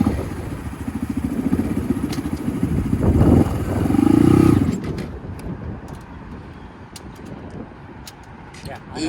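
A Honda Grom motorcycle engine given gas, its revs rising from a steady putter to a louder rev, then dropping away to a low idle with scattered clicks and clatter, close by.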